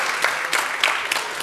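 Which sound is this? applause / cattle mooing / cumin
applause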